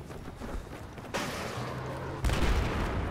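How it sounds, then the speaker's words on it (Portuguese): Gunfire in Battlefield 4 multiplayer, a few sharp bursts and booms arriving in separate jolts over steady battle noise, moderately loud in the game mix. "Pra onde veio o tiro?"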